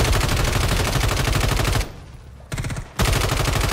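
Rapid automatic gunfire rattles loud and close in the Modern Warfare 3 video game on PS5, a continuous stream of shots with a short pause, a brief burst, then sustained firing again.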